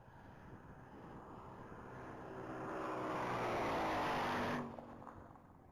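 A Ford Mustang roars through a top-speed mile run, a broad engine and wind rush that swells louder as it nears, peaks, then cuts off abruptly, heard at a distance with no talk.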